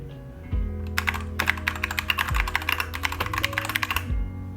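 Rapid keystrokes clatter on a mechanical keyboard in a steady burst, with a few heavier thocks of the spacebar or larger keys between the clicks.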